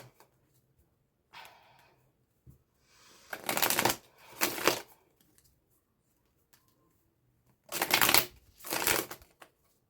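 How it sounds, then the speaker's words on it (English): Tarot cards being shuffled in four loud riffling bursts, two close together near the middle and two more toward the end, with softer handling rustles and quiet gaps between them. "I'm just gonna shuffle the cards."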